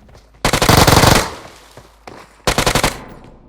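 Loud, close automatic gunfire in the battle-royale game PUBG Mobile comes as two rapid bursts, a longer one followed by a shorter one, and the echo fades between them.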